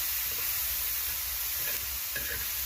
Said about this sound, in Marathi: मस्त असा कांदा परतून घेतलाय अजून दोन तीन मिनटं चांगला परतून घेऊ